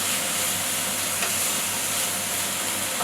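Tomatoes and mushrooms sizzle in a pan for an omelet while being stirred, a close, even frying hiss running continuously.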